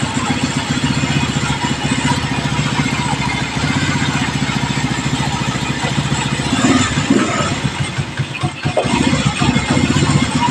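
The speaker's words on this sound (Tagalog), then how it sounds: "pa maingay yung makina" Old stock motorcycle engine running steadily up close, a continuous rumbling clatter with a loud, even drone throughout.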